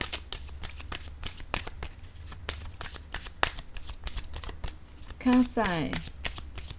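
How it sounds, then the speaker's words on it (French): A deck of cards is shuffled close by in a rapid, riffling run of crisp flicks, with a person speaking briefly over it near the end. "je vais prendre mon jeu de cartes"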